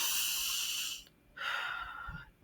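A person takes an audible breath in close to the microphone, with a long airy inhale, a short pause and then a second breath, all soft and without speech.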